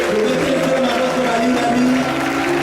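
A church congregation at a Sunday service applauding steadily, a dense continuous wash of clapping with voices mixed in, loud and sustained throughout.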